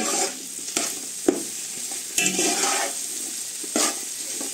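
Vegetables, including carrots, sizzle and fry in a large hot pot for pancit, with repeated sharp scraping stirs breaking through the steady crackle.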